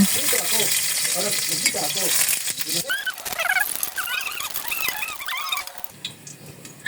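Garlic frying in cooking oil at the start of a home-style corned beef and potato sauté, a close, steady sizzle with stirring scrapes, continuing at a lower level with some clatter near the end.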